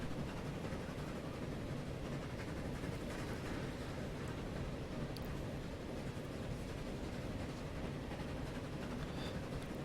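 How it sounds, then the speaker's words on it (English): A train runs in the transport-management video game Transport Fever, giving a steady, even rumbling roar that continues throughout with no talking. "So the train's going to be here anyway. I'm waiting for the train"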